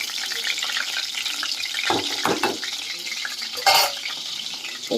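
Chicken leg pieces fry in a pan with a steady hiss and sizzle, broken by a few louder crackling bursts as the pieces are stirred or moved, close and without talk.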